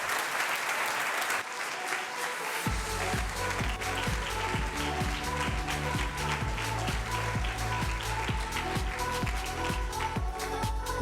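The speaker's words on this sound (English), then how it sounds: "please make a lot of noise for the Rector of the WU Wien, Professor Dr. Christoph Bade" A conference audience applauds steadily and loudly to welcome a university rector on stage at an entrepreneurship conference opening, with sustained clapping throughout and rhythmic beats of music running underneath.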